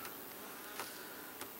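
Honeybees buzzing in an opened hive during an inspection, a dense continuous hum from many bees close by, steady and faint, with no talk.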